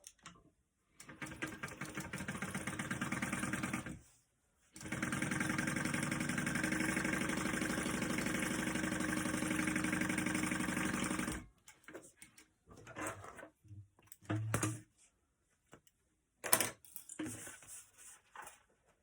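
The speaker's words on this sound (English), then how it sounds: "we are going to sew those right sides together and stitch those along the top" A sewing machine runs in long continuous bursts while stitching backpack fabric, with a short pause between runs and then scattered brief stitches and handling clicks toward the end.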